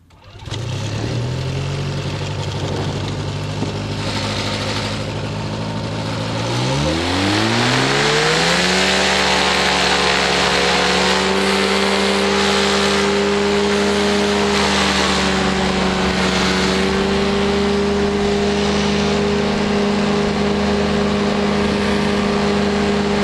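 A powered paraglider engine and propeller run up for takeoff at an open field, a loud steady drone that climbs sharply in pitch around seven seconds and holds at full revs, close and alone.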